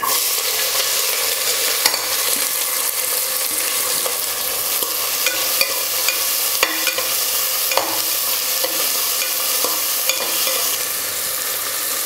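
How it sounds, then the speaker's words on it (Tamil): Chopped onions fry in a pan with a loud, dense, continuous sizzle at close range, broken by frequent small scrapes and taps of stirring throughout. "இப்போ கட் பண்ணி வச்சுக்கிற வெங்காயம் சேர்த்துக்கிறேன்"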